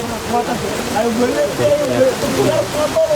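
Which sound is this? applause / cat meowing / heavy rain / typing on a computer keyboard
heavy rain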